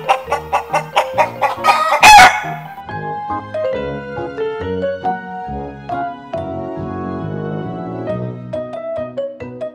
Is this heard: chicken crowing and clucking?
yes